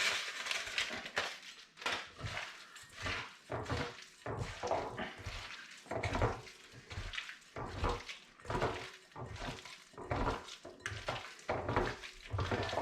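Hands squelching and mashing a pigeon burger mixture bound with egg and breadcrumbs, a close, rhythmic series of wet squishes and slaps repeating steadily, with no talk over them.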